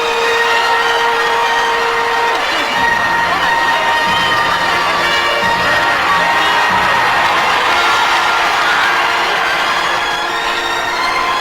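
Milling, shoulder-to-shoulder crowd at the Mammy's Market in Ghana, a dense, loud continuous murmur of many voices with shouts and cheers rising over it throughout, a steady tone running through the opening seconds.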